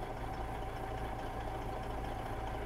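A Western Star truck engine in American Truck Simulator idling just after starting, a steady low diesel rumble with a faint constant hum and no voices.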